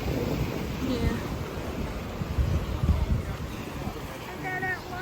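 Ocean waves washing onto a black sand beach on Hawaii's Big Island, a steady broad roar of surf mixed with wind buffeting the microphone, with a voice speaking briefly over it.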